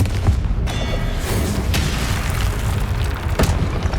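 Spells cast in Hogwarts Legacy, including the Confringo explosion spell, land as loud booming blasts with rumbling tails, several heavy bursts in quick succession over a constant roar of game effects.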